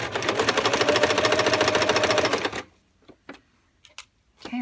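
A sewing machine stitches a waistband, running loud and steady with a fast, even mechanical patter for about two and a half seconds before stopping, followed by a few faint clicks and handling sounds.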